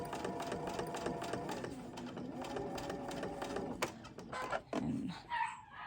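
A sewing machine stitches appliqué with a standard foot, a steady rapid mechanical whir of needle strokes, then pauses and restarts briefly with a few clicks and rustles.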